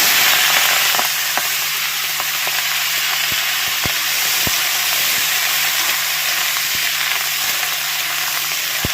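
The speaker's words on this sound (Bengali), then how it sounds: "পেঁয়াজ কালি ভাজবো একটু তেল গরম হয়ে গেছে" Steady, loud sizzling of onion seeds frying in hot oil, with scattered small pops and crackles throughout and no talking.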